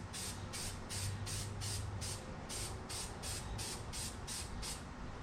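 Filter oil is sprayed onto a K&N air filter in about a dozen short, evenly spaced hissing bursts, close and fairly quiet over a low background hum.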